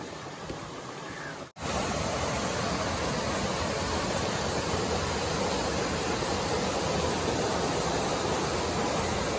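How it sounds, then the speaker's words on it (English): A small waterfall on an Appalachian mountain stream, a loud steady rushing roar of falling water filling the scene close by, after a brief cut near the start. "here's a little stream we're following up. I'll give you a little shot of a waterfall there."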